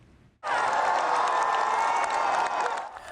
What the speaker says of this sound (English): The crowd outside Jubilee Hospital erupts in cheers